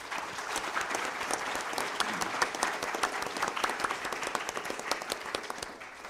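An audience at an employment panel applauds after a speaker's story, a steady wash of many hands clapping from a room-sized crowd, continuous and fairly loud with no speech over it.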